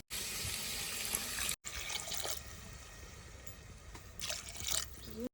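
Water pours from a glass into a cooking pot while Kathiyawadi dambha curry is being made, a close splashing gush that cuts off briefly, then resumes in uneven bursts before stopping.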